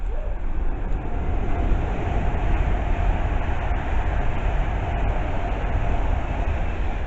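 A Pendolino train from London Euston to Liverpool Lime Street rushes past Bushey station with a loud, continuous roar of wheels and air, steady throughout and without voices.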